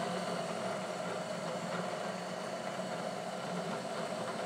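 A milling machine running at about 600 RPM, set up to cut brazed cast iron with its axes locked, gives a steady, continuous mechanical hum with no pauses and no talk.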